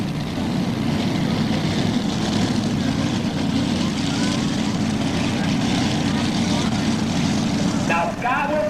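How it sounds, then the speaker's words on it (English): A modified pulling tractor powered by a 500 cubic inch Chevrolet engine roars steadily and loudly at full throttle during a 1994 tractor pull, a dense unbroken drone with a brief flicker of voice near the end. "big bed and long Chevrolet powering this modified tractor"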